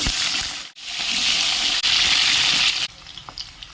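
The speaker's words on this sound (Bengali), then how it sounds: "এই কড়ায় কিছু পরিমাণ তেল নিয়ে নেব সবজি ভাজার জন্যে কিছু কপি আমি ভেজে নেব" Cauliflower florets fry in oil in a wok, giving a loud, dense, continuous sizzle with a couple of short dips in the hiss and quieter crackles near the end.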